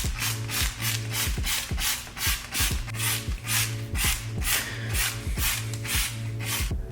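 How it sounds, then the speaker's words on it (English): A trigger spray bottle rhythmically mists Super Clean degreaser onto car wheels, about a dozen quick hissing squirts with faint mechanical clicks in a steady pumping beat, close up and with no talk. "Let's go ahead and spray these wheels."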